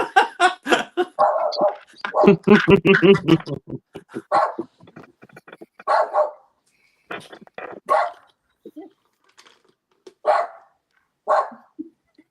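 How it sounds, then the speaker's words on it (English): A dog barks repeatedly in short, uneven bursts, some rapid clusters and some single yips, with pauses between them. "It's the neighbour's dog outside."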